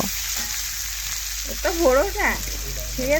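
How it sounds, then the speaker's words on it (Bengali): Three chopped onions fry in a pan while being stirred, giving a continuous close hiss of sizzling oil; a voice murmurs faintly over it in the second half. "পেঁয়াজ কুচি দিয়ে দিলাম। পেঁয়াজগুলো একটু নাড়াচাড়া করে লাল লাল করে একটু ভেজে নেব।"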